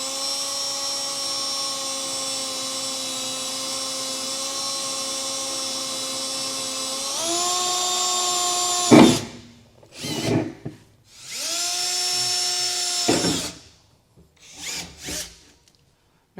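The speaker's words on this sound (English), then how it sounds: "we're going to come back with a small pilot drill bit here, and we're just going to drill in the center of each of these" A small pilot drill bit bores holes at marked spots during a B and W custom base rail installation. A loud, steady whining drill runs for about nine seconds, then breaks into several shorter bursts with pauses between.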